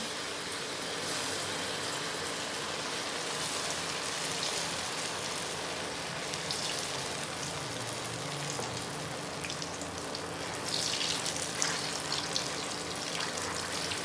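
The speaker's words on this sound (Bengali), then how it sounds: "এবারে এগুলো একটু ভেজে নিচ্ছি এটা পুরোটাই আমি সাদা তেলেই করছি" Dhokar kofta, lentil cake pieces, frying in white oil, a steady dense sizzle and crackle throughout, fairly even and close, swelling slightly toward the end.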